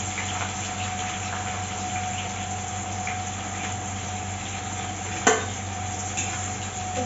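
Onions browning in hot oil give a steady, even sizzle with a soft background hum, broken once by a short sharp clatter near the end; no voices.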